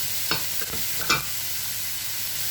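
Spring onion stalks, chopped white onion and garlic sizzle in a pan for shrimp lo mein, a steady close frying hiss broken by a couple of quick spatula scrapes early on, then settling into even sizzling.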